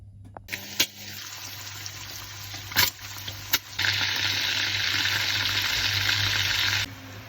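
Food fries in a pan in a home kitchen with a steady hiss that swells louder partway through, joined by a few sharp clatters of utensils, with no speech.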